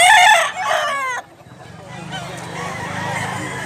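Roosters crow at a poultry farm in Mantalungon, Cebu: a loud, near crow opens the clip, followed by fainter crowing and clucking over a steady low murmur of farm background.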